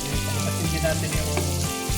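Onions hitting hot oil in a pan for pork and liver cooked in ketchup, a steady close sizzle with a stirring scrape over a low hum.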